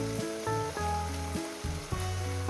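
Spices hit fried onions in a pan for a mutton curry with potatoes, giving a steady sizzle that runs the whole short stretch beneath louder, shifting musical tones.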